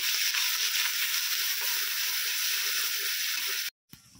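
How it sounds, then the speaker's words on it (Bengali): Onion, garlic and ginger paste fries in oil for a doi potol curry, giving a loud, even, hissing sizzle. It holds steady for nearly four seconds, then cuts off abruptly and returns briefly. "তেলের মধ্যে দিয়ে দেবো পেঁয়াজ বাটা, রসুন বাটা, আদা বাটা, সব কিছু একসঙ্গে খুব ভালো করে কষিয়ে নেব"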